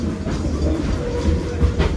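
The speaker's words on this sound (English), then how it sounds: "This runs with our freight trains going by" Norfolk Southern freight train rolling past at close range, a loud steady rumble of wheels on rail with rhythmic clacking throughout, no voices.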